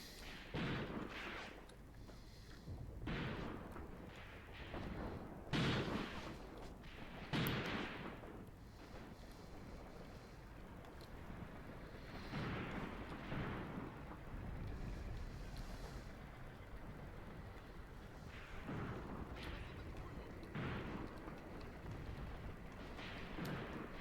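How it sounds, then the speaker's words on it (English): Artillery firing a smoke mission in the World War II wargame Graviteam Tactics at the Second Battle of Kharkov: muffled booms thud at irregular intervals, some distant, over a steady wind-like rumble. "I called in a pre-planned smoke mission, but it seems to be still firing"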